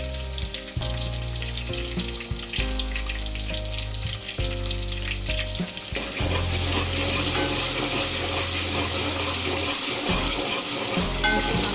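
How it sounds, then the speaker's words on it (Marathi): Curry leaves and chopped tomato being stirred in a hot pan, with a steady sizzle and the scrape of stirring throughout, the frying growing louder and brighter in the second half. "कढीपत्ता भरपूर टाकायचा टोमॅटो कापलेला टाकून घेऊया"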